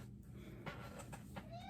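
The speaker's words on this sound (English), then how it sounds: "I have a kitty who wants to help" A house cat gives a couple of short, faint meows close by in a quiet room, with a soft, rising chirp at the end.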